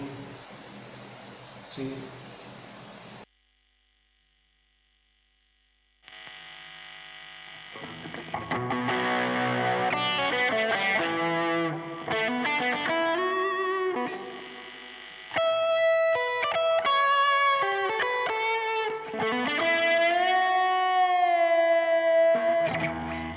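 Electric guitar run through a boost plugin: a brief lead-in, a short pause, then loud, sustained, saturated notes and chords ringing out with bends and shifting pitches, steady and alone.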